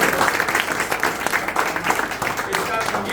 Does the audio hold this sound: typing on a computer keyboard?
no